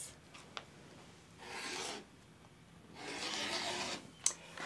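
Quilt fabric is cut across a ruler in two soft rasping strokes, faint and close in a quiet room, with small taps in between and no voice.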